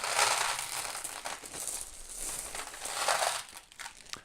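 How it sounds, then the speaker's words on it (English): Black glass beads from a dollar store are poured in as the base of a jack-o-lantern ice sculpture centerpiece, giving a close, crisp rattling and clattering rush in uneven bursts, with no speech. "I'm just going to throw some black dollar store beads, or not beads, like glass beads"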